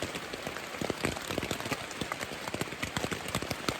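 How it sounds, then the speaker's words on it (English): Heavy rain at about 3 a.m. patters rapidly and irregularly on a tent close by, a dense constant drumming of drops. "Heavy downpour."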